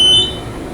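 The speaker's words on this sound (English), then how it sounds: "Indicator's kind of delayed with the beep." A short, high electronic beep from a vintage Otis traction elevator indicator sounds at the start and fades quickly, over a low steady background hum.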